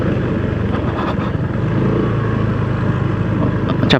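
An automatic scooter's engine drones steadily up close while it rides a damaged road toward Sawarna, with rough, bumpy road noise running continuously under it.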